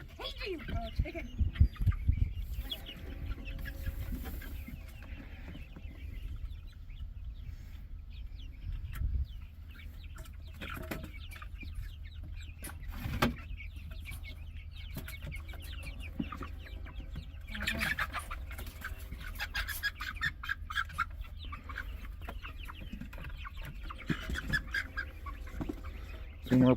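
Baby silkie chickens cluck and peep outdoors in soft scattered bursts, faint to moderate, while people talk and call out intermittently.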